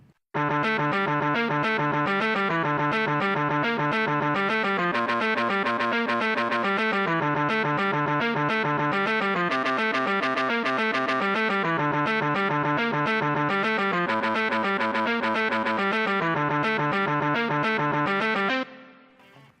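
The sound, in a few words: distorted electric guitar harmony track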